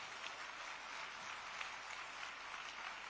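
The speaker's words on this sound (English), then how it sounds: "let us greet them all with a resounding round of applause as they grace the stage" Steady applause from an audience at an inauguration ceremony for a semiconductor OSAT facility as guests and ministers take the stage, a dense, even wash of many hands clapping at moderate distance with no talk over it.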